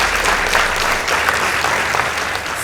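Loud, dense audience applause for a secondary school debate team at a competition results announcement, a steady wash of many hands clapping throughout with no break.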